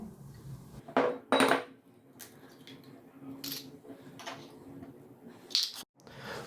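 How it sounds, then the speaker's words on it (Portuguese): Eggs cracked one at a time into a small bowl for a cornmeal cake batter make a few sharp, close taps and clicks with quiet stretches between them. There is no talking. "Vou iniciar com os ovos. Lembrando sempre de abrir os ovos um a um no potinho."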